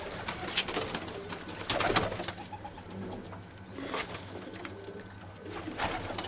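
Tumbler pigeons cooing in soft, repeated low murmurs with occasional wing flaps and rustling, fairly close, no talking.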